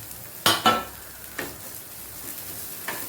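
Food is tempered in coconut oil in a pan, giving a few sharp scraping stirs and short bursts of sizzling over a quiet, low background.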